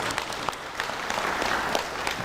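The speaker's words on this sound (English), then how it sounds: "please give yourselves a round of applause too" A graduation audience claps steadily, a dense wash of applause at moderate distance with no voices standing out.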